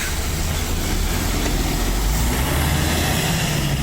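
A truck engine rumbles at the Skeoch Roundabout in Stirling, Scotland, a steady, heavy low drone that holds without a break, fairly close.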